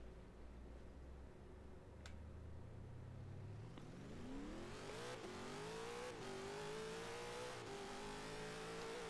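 A Mini Cooper fitted with a 3,000HP V8 in Forza Horizon 3 idles with a low rumble, then accelerates hard, its engine note climbing steadily in pitch and loudness with brief dips at gear changes, close and alone.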